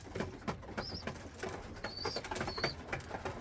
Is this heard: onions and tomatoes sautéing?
no